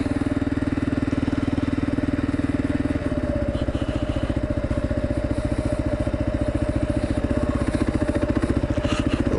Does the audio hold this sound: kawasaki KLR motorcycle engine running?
yes